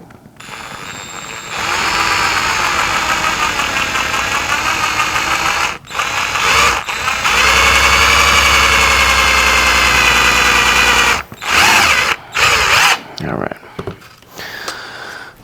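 Power drill boring starter holes for an antenna mount, a loud sustained whine running for several seconds, then brief interrupted bursts as the trigger is pulsed.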